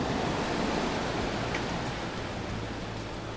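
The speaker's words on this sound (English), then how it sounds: "it's the waves crashing on the rocks that makes it really something" Waves crash on rocks along a coastal walk, a steady close roar of broadband surf that rumbles without pause and eases only slightly toward the end.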